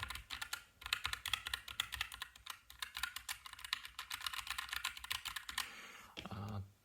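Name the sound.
typing on mechanical keyboard with brown tactile switches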